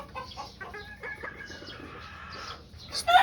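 A pure white Kelso pullet with a straight comb gives several short, close clucks and chirps, one after another, that end in a sharper squawk.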